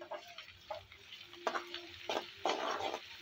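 Ginger garlic paste is stirred into lightly golden frying onions for chicken koyla karahi, with a soft oily sizzle broken by several scraping strokes of a spoon against the pan, close up.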